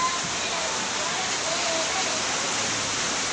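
Rain falling at 3 a.m., a steady, dense hiss of heavy rainfall that stays loud and unbroken throughout.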